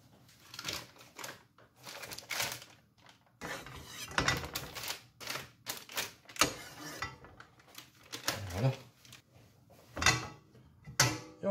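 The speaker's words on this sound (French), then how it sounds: "Oh, ça chante. Vous entendez le crépitement de beurre." Butter and olive oil crackle in a frying pan while cooking an onion tart, giving irregular bursts of sharp pops and ticks at close range with no talking.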